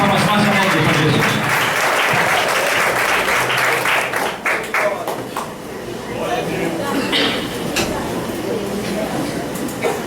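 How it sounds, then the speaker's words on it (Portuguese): A Pentecostal church congregation claps loudly and continuously, with dense rhythmic applause that gradually thins. A voice speaks over the clapping. "as palmas mais alegres para Jesus"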